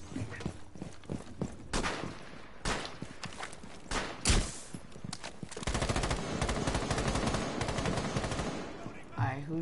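Gunfire in Rainbow Six Siege, with sharp single shots and short bursts early, then sustained automatic fire that is loud and close, mixed with footsteps and bits of talk.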